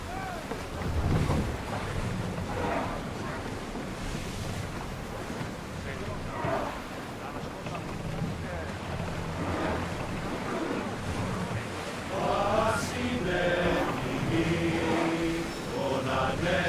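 A ship sails the open sea in the video game Assassin's Creed Odyssey, with steady rushing water, wind and creaking under voices and game sounds throughout.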